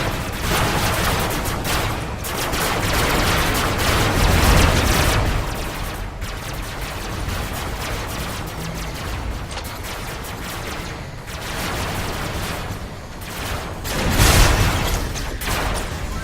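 Dense, continuous gunfire and blasts from the Robocraft robot combat game, with a steady barrage of shots and a couple of heavier booms standing out near the start and end.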